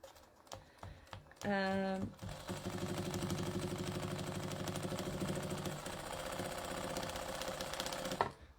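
A sewing machine stitches a line across a quilted book cover, running in a steady, fast mechanical patter at close range after a few short starts, continuing for several seconds.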